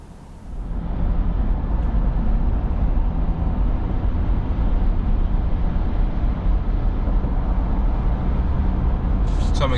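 A 2024 Chevy Silverado 3500 Duramax truck accelerates, its steady, dense engine and road roar rising and then holding loud and even for nearly ten seconds.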